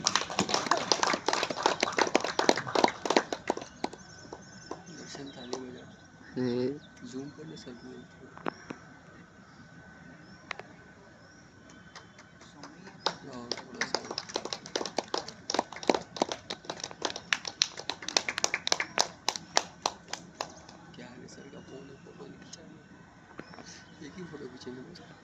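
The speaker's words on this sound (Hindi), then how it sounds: "एक बार जोरदार तालियां।" Bursts of audience applause fill a yoga-and-beauty knowledge seminar as a guest is honored with a coconut and shawl, loud stretches of dense clapping at the start and again later, with speech and crowd murmur in between.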